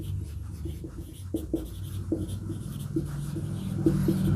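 Pen writing out a trigonometry solution on paper, with soft scratching strokes and a few sharper taps at irregular intervals, close and fairly quiet.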